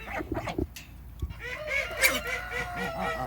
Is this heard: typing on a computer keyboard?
no